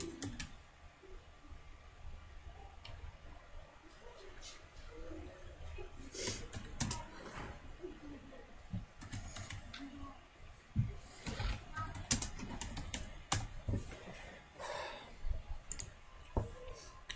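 Keyboard keys tapped at a computer while a search keyword is entered, a steady run of light clicks over a faint room hum, with no one talking.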